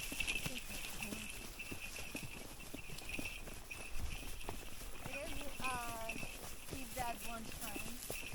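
Horses walking at an easy pace outdoors, hooves clip-clopping in a steady, fairly close rhythm over faint ambient background, with a brief whinny-like tonal call near the end and no clear speech.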